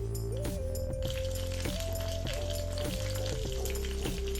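Crushed garlic sizzles in hot oil in a pan for tamarind dal, a dense, steady frying hiss with occasional clinks of a spoon stirring.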